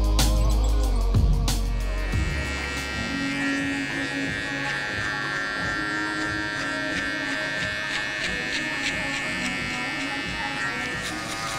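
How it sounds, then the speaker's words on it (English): A steady electric buzz from a foil shaver in a barbershop runs throughout, close and continuous, after a few brief bumps at the start. "Taking the foil shaver, I'm just kind of flicking it out"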